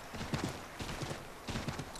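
Horse hooves in Assassin's Creed 3 clop along in a steady trotting rhythm, several quick groups of hoofbeats repeating close by at moderate volume.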